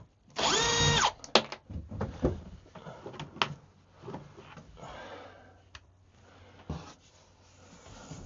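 A power drill spins in short whirring bursts while backing screws out of a fibreglass boat panel, with a longer run at first and then intermittent clicks and knocks of the tool being repositioned.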